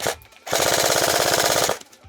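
A burst of rapid full-auto fire from an airsoft gun, about a second long, loud and close, with a pause before and after and no talking.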